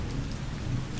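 Rain falls steadily as a dense, even hiss of drops with a low rumbling underneath, heard alone throughout the short stretch.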